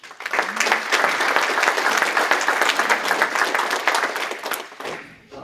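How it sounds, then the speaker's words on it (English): A conference audience at EnerGIS 2022 breaks into full, dense applause honoring past committee members, holding steady and loud for several seconds before dying away at the end. "please join me in a round of applause for these past committee members"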